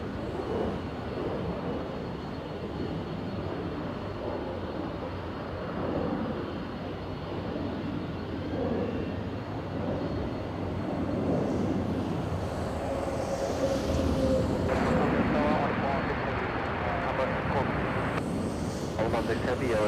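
A Delta airliner takes off from runway 24 Left at LAX, giving a steady, broad jet roar that swells slightly in the second half, with voices faintly underneath.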